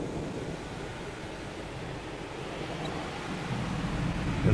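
Water and spinning rollers of an automatic car wash in Orlando, Florida wash over a convertible Mustang, a constant broad rushing and spraying noise that swells slightly toward the end.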